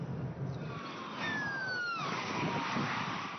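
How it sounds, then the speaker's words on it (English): A police car siren wails with rising and falling tones amid road and engine noise, moderately distant and fairly faint, with no speech. "Both have to drive with the siren on."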